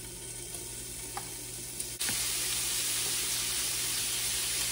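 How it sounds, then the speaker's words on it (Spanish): Shrimp hit a hot pan over a medium flame for fajitas, bursting into a loud, steady sizzle after a quieter hiss and carrying on without a break to the end; no voices. "Ahora voy a agregar los camarones"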